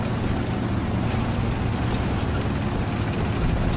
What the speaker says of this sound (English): you can hear the engine sounds have been replaced